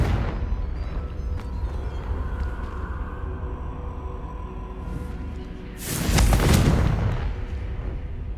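A Confringo spell in Hogwarts Legacy, heard as a steady low rumble of game ambience that breaks into one heavy, loud explosive burst lasting about a second before settling back down.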